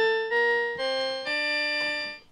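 A Simba children's toy keyboard's organ voice plays a few sustained notes in sequence, bright and buzzy with rich harmonics, clear and close with no talking.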